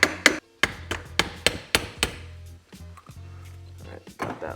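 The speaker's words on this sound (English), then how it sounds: "I don't recommend doing this with an actual hammer." A hammer repeatedly strikes the carburetor float bowl of a cheap motorcycle that had sat unused for over five years. About seven sharp, loud metallic whacks ring out at a steady rhythm, then quieter taps and shuffling follow.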